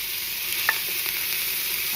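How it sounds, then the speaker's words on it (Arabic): Onion dropped into hot oil in a pan, frying with a constant close sizzle and a few faint clicks of a utensil, no voices. "بنحط البصل شفتوا نطرت عليه يصير حار"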